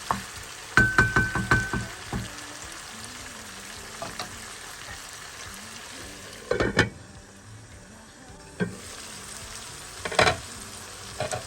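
Small ripe tomatoes sauté in a pan with lamb kavurma, a soft ongoing sizzle punctuated by bursts of stirring and clattering spoon scrapes at intervals, heard alone without speech.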